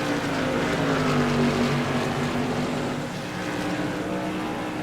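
SK Modified race car in the iRacing sim at Thompson Speedway, a steady droning engine note with slowly shifting harmonics that rise and ease as it runs through corners, heard alone at moderate volume.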